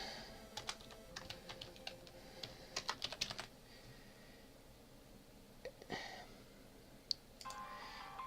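Bursts of keyboard typing on a computer while entering a name in a Pokémon team builder, quick clustered key clicks near the mic with pauses between runs and quiet room noise.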